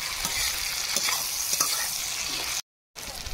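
Onion, ginger-garlic paste and tomato frying in a pan for moong dal, a continuous close sizzle with scraping stirs, briefly cut by a short gap.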